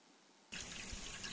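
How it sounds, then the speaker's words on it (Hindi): Spring water flowing at a riverside picnic spot, a sudden burst of close splashing, trickling water that starts after a quiet moment and continues steadily, with no voices. "यह है स्रोत का पानी, एकदम प्योर।"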